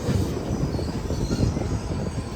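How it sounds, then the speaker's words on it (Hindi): A train rumbles past close by near a railway station in India, heavy wheels rolling on the rails in a continuous loud drone with faint metallic squeal. "देखो यहाँ से भी ट्रेन जा रही है"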